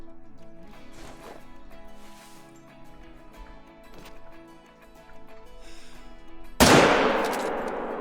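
A 300 Magnum rifle fires a single loud, sharp shot at a plains bison in the hunting game Call of the Wild, a sudden blast late in the clip that rings out over quiet background music.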